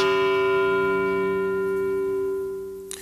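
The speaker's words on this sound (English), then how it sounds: "the same as church bells chiming" A single deep bell tone rings out and slowly fades, its rich overtones hanging in the air, loud and resonant with no voices.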